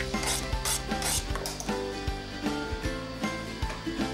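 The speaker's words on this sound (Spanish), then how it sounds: "batimos los huevos" Three eggs mixed with garlic and parsley are beaten in a steady rhythmic clatter of a utensil against a bowl, close and continuous, with repeated strokes roughly twice per second.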